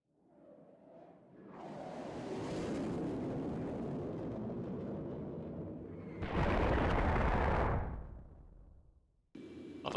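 A Concorde flyby in the X-Plane 11 flight simulator makes a broad rising whoosh and roar. It is followed by a heavier low rumbling surge, then fades and cuts off.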